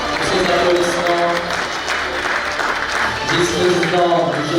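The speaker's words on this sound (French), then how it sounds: "Ces applaudissements," Steady applause from a sizable audience at a business awards event, dense clapping throughout, with a voice speaking over it.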